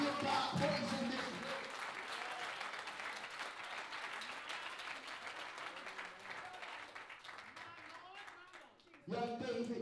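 A church congregation claps their hands in praise during a family and friends day service, with sustained applause that swells and then fades, voices and crowd noise mixed in before sound picks up again at the end.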